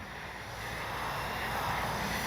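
A Flightline F4U Corsair RC model airplane drones steadily overhead outdoors, a continuous motor whine mixed with wind noise that grows slightly louder with no talking.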